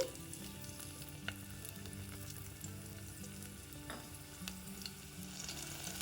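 Crushed garlic cloves frying in oil in a pan for Andhra gongura dal: a soft, continuous sizzle with occasional small pops and faint utensil clicks over a low background hum, quiet and steady, with no speech.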